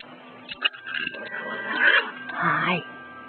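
Tibetan Terrier (Dhoki Apso) puppies playing outside, giving high thin whimpers and short yips close by, with a person speaking over them.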